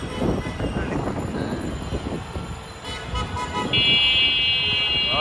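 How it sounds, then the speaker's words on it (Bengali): A metro train passes near Karwan Bazar in Dhaka amid busy street traffic, a broad rumbling swell that peaks and fades, followed by a sustained high-pitched whine near the end. "মেট্রো রেল যাচ্ছে"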